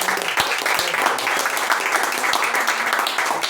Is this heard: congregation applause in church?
yes